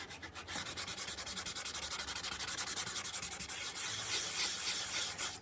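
Rapid back-and-forth sanding of encaustic wax and beeswax surfaces, close and rhythmic, with quick even strokes that switch near the end to a smoother, broader rubbing.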